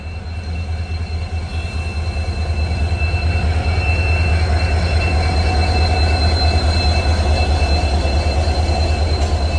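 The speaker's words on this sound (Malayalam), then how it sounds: "നമുക്ക് പോകാനുള്ള ട്രെയിനിന്റെ ലോക്കോമോട്ടീവ് ആണ് ഈ കടന്നു വരുന്നത്. ഡീസൽ ലോക്കോമോട്ടീവ് തന്നെയാണ്. WDP-40." A WDP-40 diesel locomotive pulls in on its track. A steady low engine rumble carries rail noise and faint squealing wheels and grows gradually louder over about ten seconds as it nears. No one speaks.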